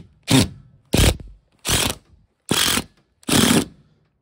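A screw being driven into the frame beneath LVT herringbone flooring, heard as five separate loud mechanical bursts of a few tenths of a second each, evenly spaced with short silences between, close up and alone.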